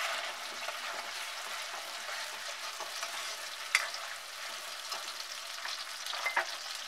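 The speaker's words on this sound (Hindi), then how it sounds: "अब इसमें डाल देंगे हम टमाटो प्यूरी" Tomato puree fries and sizzles in a pan for a restaurant-style chicken changezi, a soft steady hiss with a couple of faint stirring clicks, no voices.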